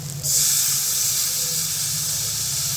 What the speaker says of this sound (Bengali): মশলাটা দেখো ভালো করে কষিয়ে নিয়েছি। জল দিয়ে দিচ্ছি।